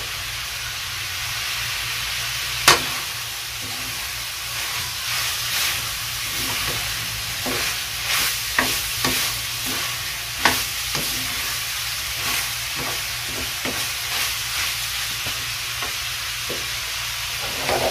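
Ingredients for batchoy sauté in cooking oil, a steady sizzle and hiss with repeated scraping and stirring clatters of a utensil against the pan, fairly close and without talk.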